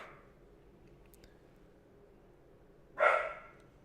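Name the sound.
dog barking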